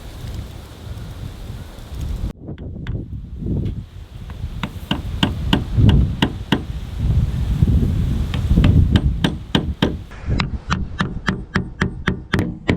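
Metal hammer strikes ring out in a series of sharp taps on a small boat centre-line ring, some spaced and then quickening into a rapid run, over a low background rumble.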